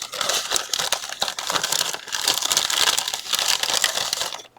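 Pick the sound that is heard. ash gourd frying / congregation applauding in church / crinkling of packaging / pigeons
crinkling of packaging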